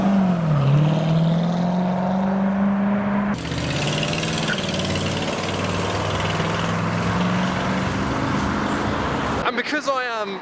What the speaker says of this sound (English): We have the aluminium-bodied Cobra coming around the roundabouts, the number 10 car.